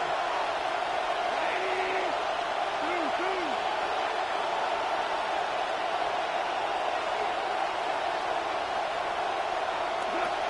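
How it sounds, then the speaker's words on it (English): Stadium crowd at a college football game between Bodie and Duke, roaring steadily through a third-down play, a dense continuous wash of cheering with a few whistles rising above it. "This crowd into it now as we get to third down."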